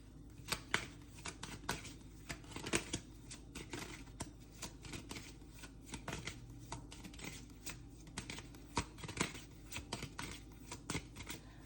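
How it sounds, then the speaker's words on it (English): Tarot cards are shuffled and pulled by hand, giving a near, continuous run of crisp riffling clicks and soft slaps at a quiet level. "I'm going to pull one more set of cards because this is kind of juicy."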